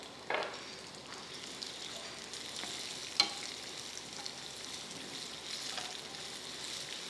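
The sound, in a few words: frying coconut and chopped onion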